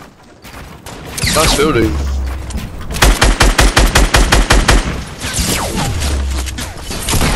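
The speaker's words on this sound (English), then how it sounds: "There's two people shooting each other." Gunfire from two players shooting each other in Fortnite, with bursts of rapid shots punctuated by a loud rhythmic run of automatic fire, while players talk over it.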